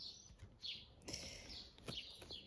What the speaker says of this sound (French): Et les petits oiseaux chantent.